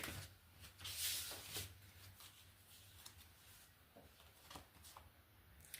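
Tarot cards are shuffled in soft, repeated riffles and slides at close range, a quiet papery rustling with a few sharper snaps, no voices over it.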